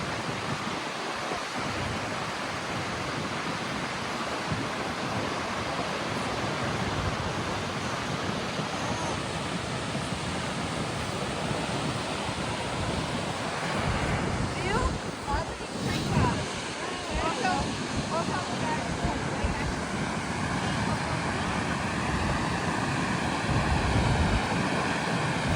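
Waterfall in Iceland roars as a steady, broad wash of falling water, loud and continuous throughout, with some wind buffeting the microphone.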